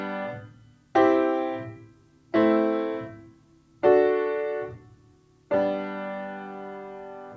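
Full piano chords of a I-IV-II-V-I progression in G, harmonized in plain root position: five sustained chords struck in slow succession, each ringing out and fading before the next, with no talking.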